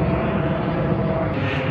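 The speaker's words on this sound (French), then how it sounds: "Par contre les avions, ils passent vraiment tout près." A low-flying airplane passing close overhead near Legoland, a steady broad engine roar filling the whole moment, loud and near with no break.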